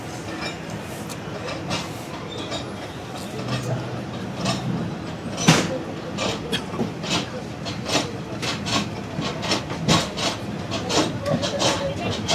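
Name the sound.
Zakriya Express train departing Liaquatpur railway station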